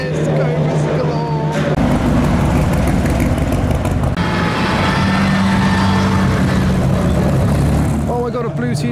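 Cars, including Shelby Cobras and a Ferrari TDF, circle a race track in a continuous loud roar of engines, with a crowd murmuring and people talking over it.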